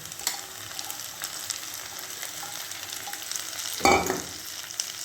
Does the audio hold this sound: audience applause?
no